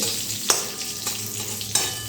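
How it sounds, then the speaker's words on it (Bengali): Whole cumin seeds and bay leaves fry in hot mustard oil, giving a close, continuous crackling sizzle broken by a couple of sharp pops or stirring clicks. "এবারে তেলের সঙ্গে জিরা আর তেজপাতা একটু ভালো করে ভেজে নিতে হবে"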